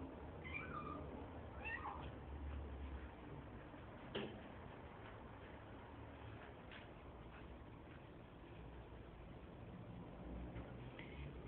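A cat gives a few faint, brief meows near the start, followed by a soft knock and quiet household background in an indoor setting.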